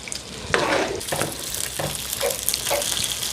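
A spoon stirs spaghetti meat sauce bubbling in a pan, giving a steady close sizzle with several scraping strokes at irregular intervals and no talk.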